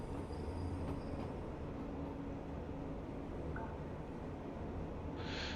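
A train rolls along the rails in the simulator Train Life: A Railway Simulator on a passenger run from Liechtenstein to Basel, giving a steady low rumble of wheels with faint squealing tones and a brief high hiss near the end.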